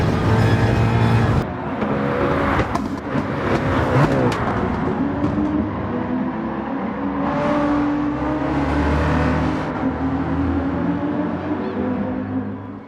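Race cars roaring around the Catalunya circuit in a racing video game, a Porsche among them, with steady engine drone, rising revs and gear shifts sustained throughout, loud and close.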